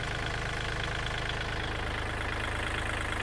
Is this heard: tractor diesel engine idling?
yes